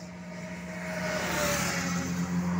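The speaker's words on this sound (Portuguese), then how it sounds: "Passou uma moto, passou um carro." A motorcycle and then a car pass along the RJ-116 road in Aperibé, Rio de Janeiro, a steady broadband road rush that swells and holds through the moment with no talking.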